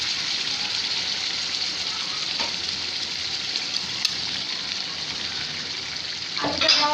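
Potatoes go into a spicy chicken curry sizzling in the pan, a constant loud frying hiss with a brief burst of spattering and scraping near the end.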